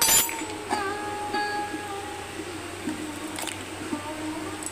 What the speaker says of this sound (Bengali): দিয়ে ওটা খুব ভালো করে মাখিয়ে নিলাম